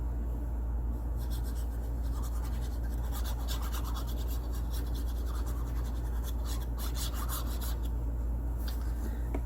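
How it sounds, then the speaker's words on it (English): Paper on a decorative box is burnished with repeated firm rubbing strokes, a close scratchy swishing that comes in bursts over a steady low electrical hum. "I'm just burnishing. Lots of burnishing, and then I go along the edge to flatten it"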